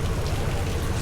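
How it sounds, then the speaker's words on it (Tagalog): Heavy rain pours steadily on a mountain road between Sagada and Atok, Benguet, a dense, continuous hiss and patter close by with no pauses. "Lakas ang ulan."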